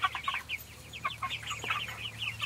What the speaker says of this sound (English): This might give you a better look of what we got for chicks